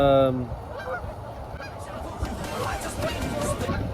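A loud goose honk opens, followed by more scattered honking and cackling from a flock amid background noise and faint chatter.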